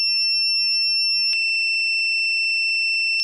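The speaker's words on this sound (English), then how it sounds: "In the main interface of gas detection, press and hold the menu key to open the distress mode." A BTYQ-A119 portable gas detector in distress mode sounds a loud, steady, piercing electronic tone that runs continuously, with brief click-like breaks partway through and at the end.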